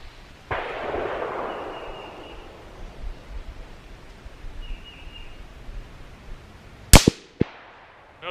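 Shots from a .17 HMR rifle: a sharp crack early on with a long rolling echo, then two more close, loud reports near the end, over quiet outdoor background.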